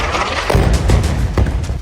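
A blast in war news footage from the Iran–Hamas conflict booms loudly, followed by several heavy thuds and rumbling impacts spread across a couple of seconds.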